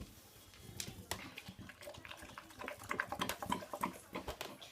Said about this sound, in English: I like how my dog's drinking gravy.